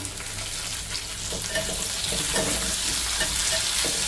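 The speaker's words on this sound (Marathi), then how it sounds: "मग त्याच्यात कांदा टाकून घेतला, कांदा चांगला पोळसपर्यंत आपण" Onion fries in a pan for a garlic-fenugreek dish, a continuous close sizzle with soft stirring scrapes, growing slightly louder, no talk.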